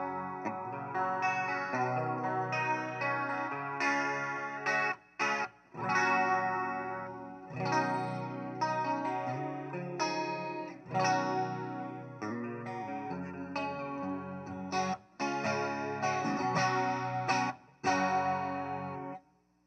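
Electric guitar run through a Line 6 HX Effects unit and picked up by a mic inside the cabinet, with chorus- and drive-colored chords ringing out loud and steady, broken by a few brief pauses.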